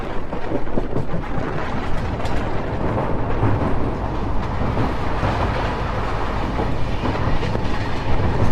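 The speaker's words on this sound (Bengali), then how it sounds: "বলতে বলতে দলগাঁও স্টেশন আমরা ছেড়ে বেরিয়ে গেলাম।" A train pulls out of Dalgaon station on the Siliguri–Alipurduar line through the Dooars, with a continuous loud rumble and rattle of wagons heard from on board and no talk.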